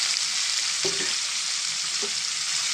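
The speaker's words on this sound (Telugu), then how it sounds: "ఇప్పుడు ఇదే ఆయిల్లోని ఉల్లిపాయలు వేసుకోండి" Chopped onions frying in oil left over from frying eggs and dried fish for a village-style curry: a loud, continuous close sizzle with a couple of faint utensil knocks.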